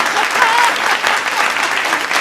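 Audience applause fills a Hindi comic poetry gathering, a dense, steady burst of clapping from a crowd that holds at an even level throughout with no break.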